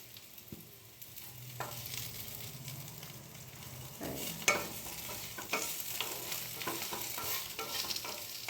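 Sliced bitter gourd fries in hot oil with a soft, steady sizzle, broken by occasional scrapes and clinks of a stirring utensil, heard close with no talking.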